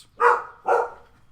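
A dog gives two clear, separate barks, loud and close, with a short pause between them and near silence around them.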